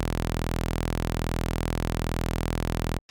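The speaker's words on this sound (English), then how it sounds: "I have an operator loaded up on a new MIDI track, which is playing a sawtooth wave on the note E0" A sawtooth wave from Ableton Live's Operator synth plays a sustained low E0, a steady buzzing drone dense with harmonics that holds evenly for about three seconds before cutting off abruptly.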